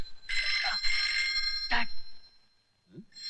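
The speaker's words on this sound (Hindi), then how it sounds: "फोन बज रहा है तेरी।" Telephone ringing indoors in a Hindi film scene, a bright electronic trill in two long bursts and a short third one, fairly loud and close, followed by a brief low voice-like sound.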